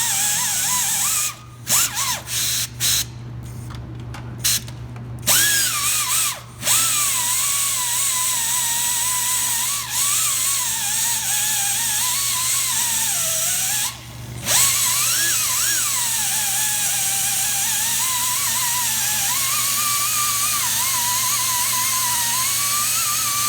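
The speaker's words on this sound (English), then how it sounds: "Now I'm going to finish with the angle grinder and just grind down to the spot" Angle grinder grinding metal down on a Saturn water outlet, a loud steady whine running almost continuously for over twenty seconds, with brief cutoffs and restarts early on and one short pause partway through.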